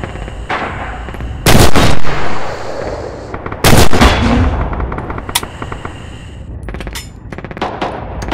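Artillery fire in the video game Red Orchestra 2: loud booming blasts land in two heavy bursts amid ongoing scattered gunfire and a rapid crackle of shots near the end, with no talking.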